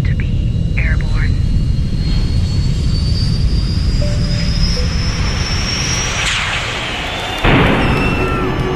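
Jet airliner taking off, its engine roar building with a rising whine over several seconds, heard close and loud while a voice carries on over it.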